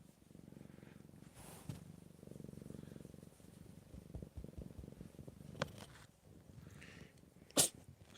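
A pet cat purring steadily up close, broken by a couple of short sharp sneezes, the last one loud and abrupt near the end.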